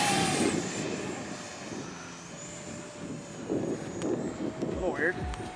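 An H-Hobby F-18 Super Hornet RC jet whines up to takeoff power with a steady high-pitched tone and rushing roar, while voices talk nearby.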